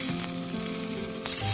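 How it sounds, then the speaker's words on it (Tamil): Beans and carrots sauté for sambar in a heavy-bottomed pan, a close, steady sizzle with a few brief stirring scrapes. "இது அடிக்கனமான பாத்திரம் வச்சுட்டு இது நல்லா சுருள வதக்கிக்கணுங்க."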